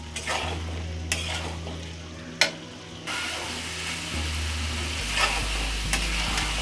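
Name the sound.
potatoes frying and being stirred with spices for alur dom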